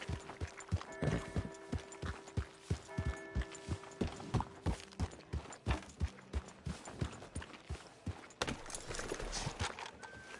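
Horse hooves clip-clop at a steady walking rhythm in Red Dead Redemption 2, clear and close, with faint tonal music and occasional rustling in the background.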